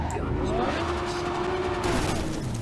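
A car in Cyberpunk 2077 skids and slides, giving a brief continuous tire squeal over a loud, rumbling engine drone.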